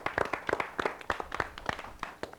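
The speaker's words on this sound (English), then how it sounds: "Give yourselves a big round of applause." Scattered applause from a small group after a competition round, with a few irregular claps at moderate level over faint room noise.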